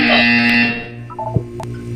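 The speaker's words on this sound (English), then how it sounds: "You will hear a buzzer" A harsh electronic buzzer in Portal 2 drones loudly, then a few short electronic blips and tones follow.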